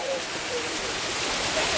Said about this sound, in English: That's a good waterfall over there.